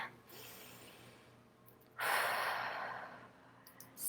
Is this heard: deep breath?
yes